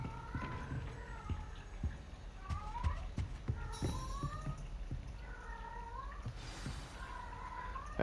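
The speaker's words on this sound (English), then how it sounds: "Hang on, I gotta shut my cat up." An indoor cat meows repeatedly in rising and falling calls over soft background thumps and faint noise. The meows come in several bursts, fairly close but quiet.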